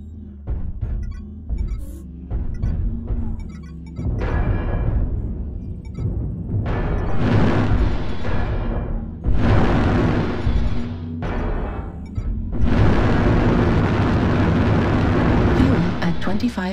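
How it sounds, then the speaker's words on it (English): Artillery strike explosions in a tank video game land as a series of heavy booms and rumbling blasts, roughly a dozen impacts over several seconds, loud and close. "Artillery strike activated."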